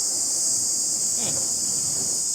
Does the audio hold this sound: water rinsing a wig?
no